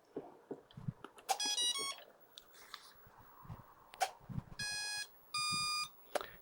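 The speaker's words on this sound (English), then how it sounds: "Now we heard the traditional confirmation beeps there from the speed controller." Several bursts of bright electronic beep sequences from the speed controller of a Radiolink A560 RC plane, rising multi-tone chirps followed by longer steady tones, sounding close and clear over faint background noise.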